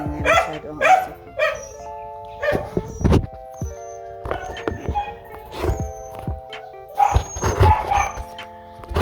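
Close, loud barking from a dog at a home in the Philippines, coming in irregular bursts and pauses over several seconds, with no one speaking.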